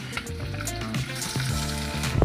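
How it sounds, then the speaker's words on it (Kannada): Onions sizzling in hot oil in a pan along with roasted green chillies and seeds, a steady close frying hiss with soft crackles and spoon stirring throughout. "ಇದು ರೋಸ್ಟ್ ಆದಮೇಲೆ ಈಗ ಈರುಳ್ಳಿ ತೊಗೊಂಡು ಈರುಳ್ಳಿ ಹಾಕ್ತೀನಿ."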